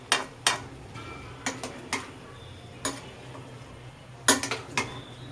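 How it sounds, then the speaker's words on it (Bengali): Boiled chickpeas being stirred in a wok, with a scattering of sharp metallic scrapes and clinks at irregular intervals, a few clustered together, over a low steady background hum. "এতগুলো ছোলা সে নাড়তেই পারতেছে না"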